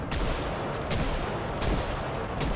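Gunfire in the zombie-survival game Project Zomboid: four sharp, loud shots at roughly even intervals, each cutting through a dense, steady wash of background noise, with no voices.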